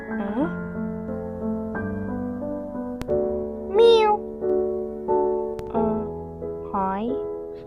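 A human voice imitates a cat in a video game, giving two rising, wavering meows over steady, sustained game music with a few sharp clicks.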